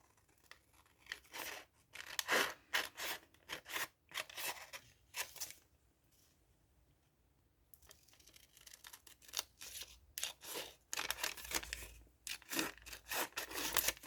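Scissors snip and crunch through sheets of paper washi tape, cutting along the back of the tape first, in bursts of close, crisp cuts broken by a few quiet pauses.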